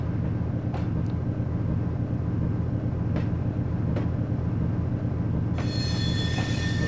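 A streetcar rumbles along the rails in the Trainz 2022 railroad simulator, a steady loud rolling drone with a few brief wheel squeals and a sharper metallic screech near the end, and no talking.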